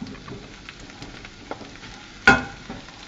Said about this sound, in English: Mushrooms are in the pan, and I'm just slowly and gently turning them over, trying to coat them with the oil, getting that garlic through them